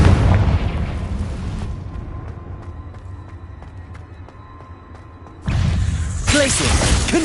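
A Confringo explosive spell blast in the video game Hogwarts Legacy opens with a loud booming burst that fades into a quiet ringing tail, then a second loud blast erupts near the end.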